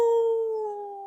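A person imitates a wolf, holding a single long howl for about a second, pitch sliding slightly downward as it fades, loud and alone.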